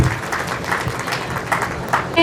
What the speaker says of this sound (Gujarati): તો સૌને આપણે તાળીથી વધાવી લઈશું